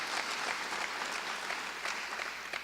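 Steady audience applause for an urban school superintendent announcing he will return next year, a dense sustained wash of clapping hands that carries evenly throughout without any talk over it.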